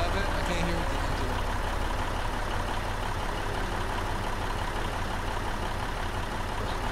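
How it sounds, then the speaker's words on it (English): Vehicle engine idling steadily with a continuous low rumble throughout, while people talk loudly nearby over it. "Turn the engine off."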